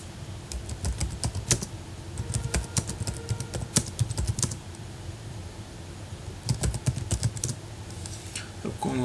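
Someone types a slide title on a computer keyboard, with bursts of rapid, close key clicks separated by short pauses.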